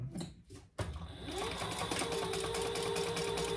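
A sewing machine runs steadily, stitching down the side seams of a retro sling bag with right sides together, starting after a brief pause and then droning continuously and close up.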